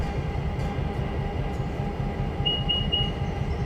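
A heavy freight train being broken up in the railroad game Railroader rumbles steadily and low, with a thin metallic squeal rising briefly near the end. No voices.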